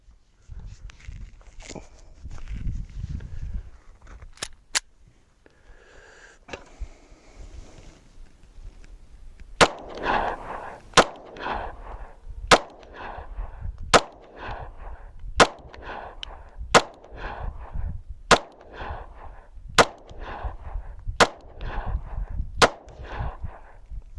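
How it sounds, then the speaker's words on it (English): A SCCY CPX-2 pistol firing Winchester White Box 115 grain full metal jacket round-nose rounds, a steady series of about twelve sharp, loud shots spaced roughly a second and a half apart, preceded by quieter handling sounds. "We're going to shoot 150 rounds through the SCCY, and today I'm using Winchester White Box 115 grain full metal jacket round nose."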